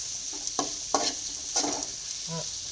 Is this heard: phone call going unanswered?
no